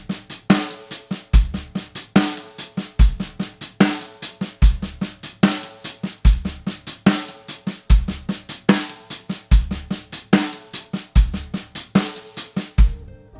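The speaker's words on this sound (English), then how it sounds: "the inverted paradiddle, which is basically where you take the standard paradiddle and you start it at a different point in time" A drum kit plays the inverted paradiddle sticking, steady alternating strokes with regular accented hits and low kick thumps repeating in an even cycle, loud and close with no talking.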